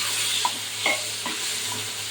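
Taro root frying in a pan, a soft steady sizzle broken by a few stirring scrapes and clinks, fairly quiet, with no speech.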